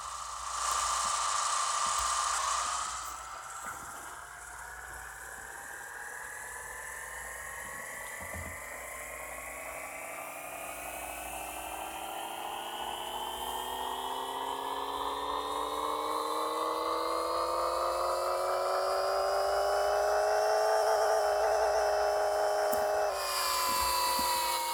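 A Honda Civic D16 engine in the Pixel Car Racer video game whines in a synthetic tone that climbs steadily in pitch over about twenty seconds, then cuts off abruptly, with no talking.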